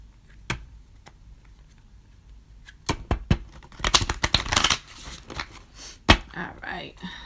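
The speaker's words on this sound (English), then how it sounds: "let me shuffle one more time" Crisp riffling and flicking of tarot cards being shuffled in quick bursts, with soft taps and slides between them, close up in a quiet room.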